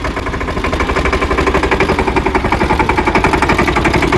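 A tractor engine runs loud and close at a steady, fast throbbing rhythm, its even chugging pulses continuing throughout with no talk.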